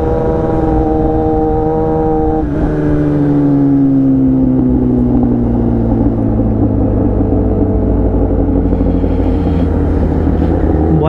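Kawasaki ZX10R and other 1000cc sport motorcycles cruise down a highway, their engines droning loud and close, with rising and falling tones as they shift and accelerate and heavy wind rush beneath.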